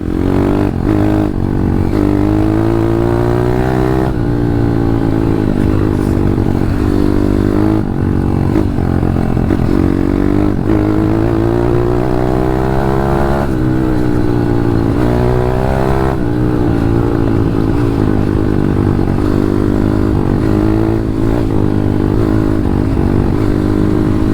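A 150cc dirt bike engine runs loudly and close throughout, its low, rough drone rising and falling as the throttle is revved, with no voices.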